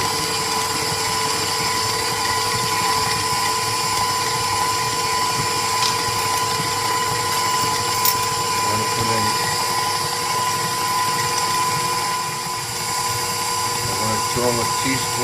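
An electric mixer whirs steadily while creaming butter and eggs for chocolate chip cookie dough, a loud constant whine with short bursts of someone talking over it.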